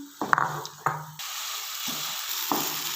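Boiled urad dal is stirred and fried in masala, dhaba style: a few sharp spoon scrapes against the pan open the sound, then a loud, steady sizzle continues with occasional stirring bumps, close up and without speech.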